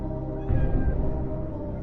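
A cat meows once, fairly close and clear, over a steady low background hum, the call rising briefly before fading back into the drone.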